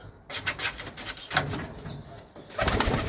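Serbian Highflyer pigeons coo softly in a loft on a winter morning, low throaty calls repeating over rustling and light knocking sounds nearby.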